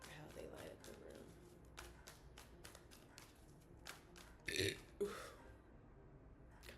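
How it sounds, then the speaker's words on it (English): A single short burp sounds close at mid-clip during a tarot reading session, followed by a brief throat noise, with faint tapping and low background hum around it. "Confirmation burp."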